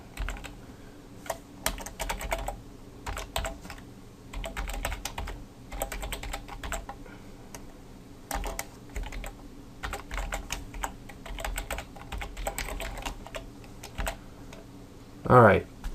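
Rapid bursts of clicking keystrokes on a computer keyboard come in irregular clusters with short pauses, close and steady, while someone talks over them intermittently.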